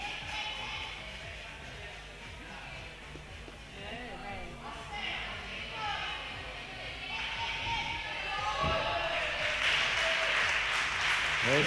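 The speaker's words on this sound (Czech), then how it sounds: "Děkuji za potlesk." Spectators at a men's gymnastics team and individual competition in Liberec applauding a horizontal bar routine, crowd clapping that grows louder toward the end, with speech over it in a large hall.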